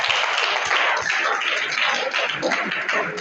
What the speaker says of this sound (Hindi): आप लोग तालियां बजाइए।